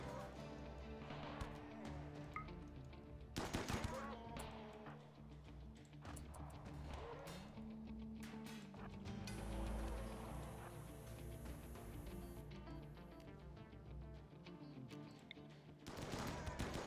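Two defensive turrets in the colony game Rimworld open fire on an attacking raid, bursts of rapid automatic shots and impacts rattling over a busy mix of game sounds, with some softer gaps between volleys.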